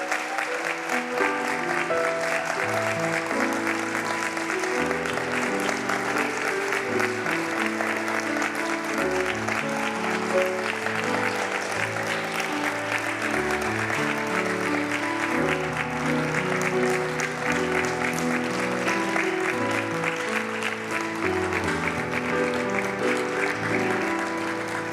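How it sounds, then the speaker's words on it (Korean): Applause from wedding guests in a church greeting the mothers of both families as they enter a wedding ceremony, a steady sustained clapping across the room with music-like tones underneath and no break. "여러분 박수로 양가의 어머니를 축복해 주시면 좋겠습니다"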